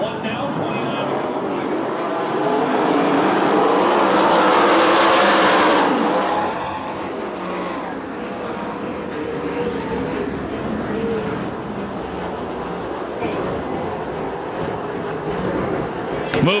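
Sprint cars at a USAC/CRA race in Perris, California roar together on the track at a restart, a loud continuous engine drone swelling and fading beneath a commentator's voice.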